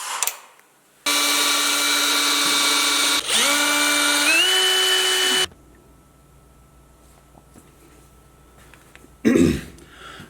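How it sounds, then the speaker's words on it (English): A power drill whines loudly for a few seconds while drilling holes for an underbody LED rock light kit on a Jeep Comanche, its pitch rising as it bites in, then stops; a short rustle follows near the end. "I know exactly where I'm going to drill my holes."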